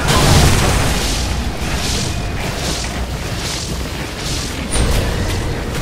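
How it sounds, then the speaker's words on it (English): Dota 2 match where a middle tower comes under attack and collapses, with a dense, continuous roar of explosive booms and crashing impacts that swell and recede, followed by a sharper burst near the end. "Dire's middle tower has fallen."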